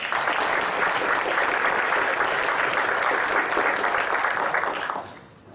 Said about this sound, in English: If we could have one more round of applause for all of our national teams.